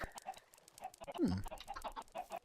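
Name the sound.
chickens clucking in Minecraft video game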